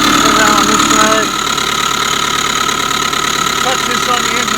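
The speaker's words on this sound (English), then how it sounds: "You can hear what's going on inside the engine. Everything's nice and smooth." A 2005 Subaru Forester engine idles steadily and smoothly, heard up close through a listening tool on the engine block, a constant even hum with a brief louder moment at the start.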